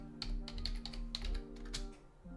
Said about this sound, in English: Okay, I'm gonna type it.